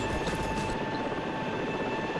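A helicopter in the SAR4 search and rescue game, a loud, close, continuous rotor and engine drone that holds steady throughout with no talking.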